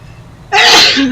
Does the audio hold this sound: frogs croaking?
no